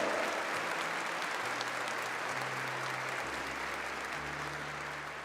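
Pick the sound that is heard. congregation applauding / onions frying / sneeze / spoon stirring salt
congregation applauding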